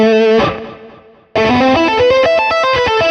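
Distorted lead electric guitar from the Shreddage 3 virtual instrument: one sustained note rings and fades, then a quick melodic run of separate notes follows, loud and solo.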